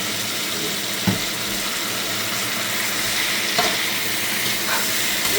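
Sugar stir-fried in a pan to make caramel colour for pork belly gives a loud, steady sizzle and steamy hiss, broken by a few soft scraping knocks of the spatula.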